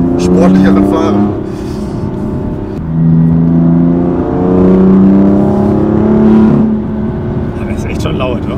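A BMW M4 Competition with 590 hp accelerates hard, its engine note rising loud and strong through several gear pulls, with brief drops at the shifts, heard from inside the car.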